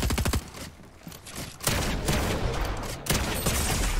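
Pump shotgun blasts in Fortnite crack out loud and close in a rapid exchange, with a couple of sharp reports standing out amid continuous gunfire.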